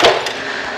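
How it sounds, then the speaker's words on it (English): Long welder's pliers struck like a hammer give a single sharp metallic knock, close and loud, followed by a brief fading ring. "And you can use them like a hammer."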